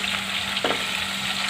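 Chicken frying in oil in a pan for chicken kadhi, giving a steady close sizzle with one brief stirring scrape near the middle.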